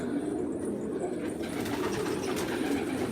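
Pigeons and their chicks in a loft fill the space with a dense, continuous chorus of cooing and chirps, close and fairly loud, with faint wing rustles and no talking.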